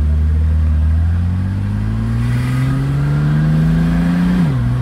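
A 1968 Mercedes-Benz 250SL accelerating from inside the car, a close, loud engine tone climbing steadily in pitch through a gear, then dropping briefly at the end.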